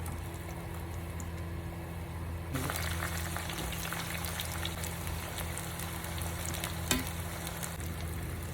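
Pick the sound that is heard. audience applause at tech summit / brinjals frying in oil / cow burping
brinjals frying in oil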